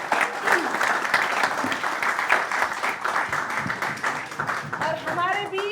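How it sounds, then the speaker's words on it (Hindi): Audience applause at a live poetry event, steady dense clapping throughout with a voice speaking over it near the end. "जोरदार तालियां।"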